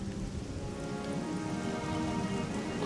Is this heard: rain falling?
yes